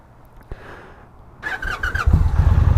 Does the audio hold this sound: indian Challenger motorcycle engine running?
yes